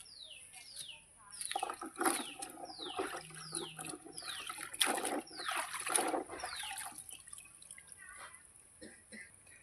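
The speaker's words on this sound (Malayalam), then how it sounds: "നമ്മുടെ മാങ്ങ കഴുകി തീർന്നു കേട്ടോ." Wild baby mangoes being washed in water in a basin for pickle, with splashing and dripping sounds over repeated chirping birds outdoors, moderately loud and close.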